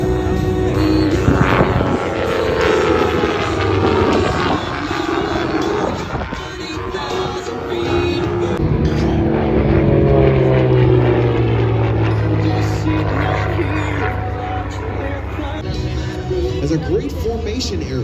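A T-34 propeller aircraft yanks and banks down the show line at a warbirds airshow, its engine droning loudly and steadily throughout, pitch shifting as it passes, with crowd and announcer noise underneath.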